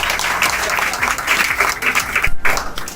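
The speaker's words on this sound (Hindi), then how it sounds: "she's a big round of applause एक बार जोर से ताली बजाइए।" A large hall audience at a university gold medal ceremony bursts into loud, sustained applause, with many hands clapping in a dense, continuous wash and no speech over it.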